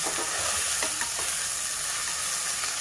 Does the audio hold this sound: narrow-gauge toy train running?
no